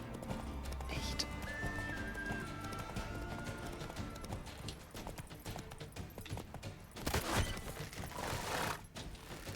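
Roach, the horse in The Witcher 3: Wild Hunt, gallops with steady rhythmic hoof clops, a brief whinny early on and game sounds and music beneath, moderately loud and continuous.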